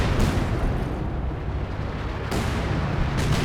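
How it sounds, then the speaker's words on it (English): A light artillery barrage lands in the World War II strategy game Company of Heroes 2, heard as a loud, dense rumble of overlapping booming impacts that continues without a break. "Light artillery barrage as well as a rifle nade."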